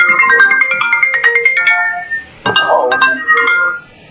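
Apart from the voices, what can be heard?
mobile phone ringtone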